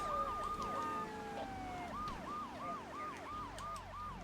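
Police car siren in the video game GTA III, a wailing tone that shifts into a fast rhythmic yelp, heard at moderate distance over a low engine and traffic rumble, no speech.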